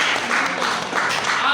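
Students clapping at a school cyber security seminar, a brief burst of mixed applause with a voice talking over it.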